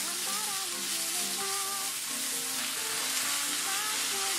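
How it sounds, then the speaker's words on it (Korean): Onions stir-frying in an oiled pan with garlic and ham for a spicy buldak carbonara make a dense, continuous sizzle, close and loud, with faint tonal sounds in the background and no speech. "그 다음 양파를 볶아주세요."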